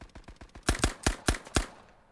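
Luger pistol shots in the video game Resolve: a run of quick shots, then four or five louder, sharper cracks spaced about a quarter second apart, each trailing off briefly before fading to quiet.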